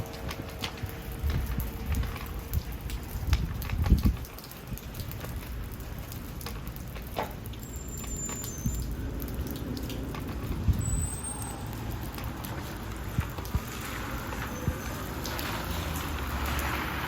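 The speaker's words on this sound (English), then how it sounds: "Raining." Rain falling outdoors on a wet day, a continuous soft patter with scattered drips and splashes, steady and moderately loud throughout with no voices.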